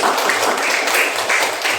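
Students in a madrasah class applauding together, a short, even wash of clapping held at a steady level throughout.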